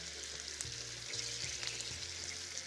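Chopped onion frying in melted butter in a pan, a steady close hiss and crackle with a few soft stirring scrapes, no talking.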